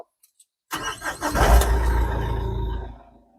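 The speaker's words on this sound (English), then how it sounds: "I'm going to start the engine up" A Fuso 515 truck's engine cranks after a few faint clicks, catches with a sudden rumbling roar, then settles into a steady idle before cutting off, heard up close and alone.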